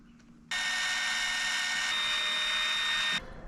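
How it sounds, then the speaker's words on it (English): A drill driver threading a screw into plastic whirs steadily for about three seconds, its motor pitch shifting slightly partway through, then stops abruptly; close and loud. "when I use the drill driver, I go slow so we don't overheat the plastic"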